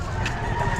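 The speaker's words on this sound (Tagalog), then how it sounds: "Ito manok" A brief, close burst of chicken clucking over a dense, noisy background.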